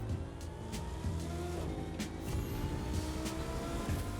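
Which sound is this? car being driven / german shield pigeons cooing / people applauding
car being driven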